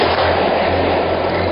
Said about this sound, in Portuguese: alguém solta fogos de artifício em direção à luz